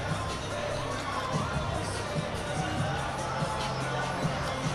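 A home crowd roars and cheers throughout at a varsity basketball game, a steady, dense wall of shouting with children's voices, no break in the noise.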